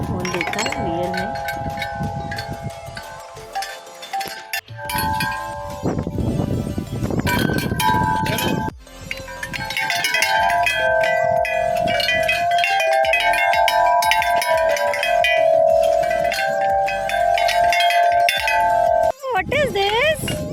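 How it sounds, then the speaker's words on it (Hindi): Struck tuned bars ring out in a loose, irregular pattern outdoors, with bright, clinking tones and people talking over them. "तो आज मैंने इतना बड़ा सा ज़ाइलोफ़ोन देखा रियल में।"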